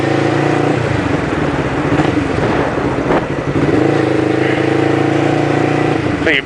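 A motorcycle engine drones and revs steadily as the rider leans into a turn, holding a loud, continuous mid-pitched note that dips briefly midway before picking back up.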